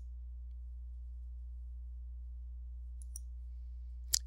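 A single sharp mouse click lands near the end, with a fainter tick just before it. Both sit over a steady low electrical hum, and nothing else is heard.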